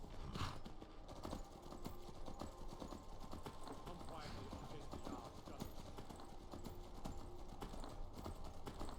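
Steady horse hoofbeats clip-clop through a dense, busy Skyrim game soundscape, with a brief whinny early on and continuous background noise throughout.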